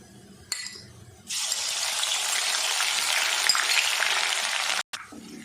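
Two tablespoons of ginger and garlic frying in oil for fish karahi, a loud, steady, close-up hiss and sizzle that starts abruptly, runs evenly for several seconds and then cuts off.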